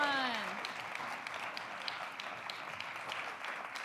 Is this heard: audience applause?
yes